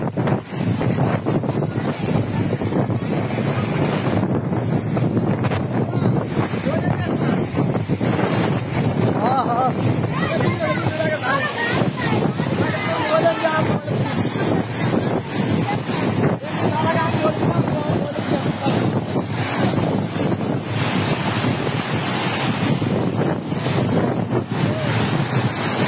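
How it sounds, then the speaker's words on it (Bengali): Cyclone Remal storm winds roar constantly with surging waves around the flooded village of Char Nizam, a loud, unbroken rush buffeting the microphone while faint voices sit beneath it. "ভয়ঙ্কর তুফান হইতেছে"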